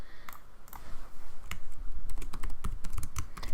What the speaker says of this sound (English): In a blank Excel spreadsheet, start by typing in the KPIs that you want to track and the target.